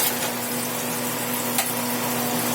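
Guanciale crisping and browning in a pan gives a steady, close sizzle and crackle with a faint low hum, one brief sharper pop near the middle, and no talking.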